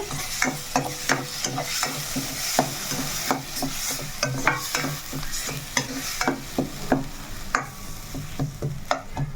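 Spices and a bay leaf frying in a pan for a biryani-style curry, with a steady sizzle and repeated sharp clinks and scrapes of a spoon stirring against the metal, close and fairly loud, with no talking.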